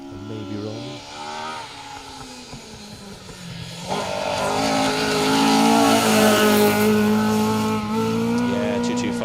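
A rally car, a Mitsubishi Evo, drives through a stage of the Phil Price Memorial Woodpecker Rally, its engine note climbing loudly as it nears and passes, with faint talk from onlookers beneath.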